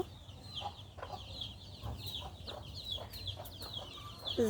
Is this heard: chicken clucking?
yes